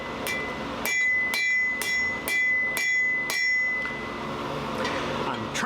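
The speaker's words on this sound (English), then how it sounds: "Trying to use what they call half-face blows, where half of my hammer is on the anvil and the other half off." Steel hammer blows ring on an anvil while a scythe hook is forged, about six bright, evenly spaced clangs with a ringing tail, followed by quieter shop noise.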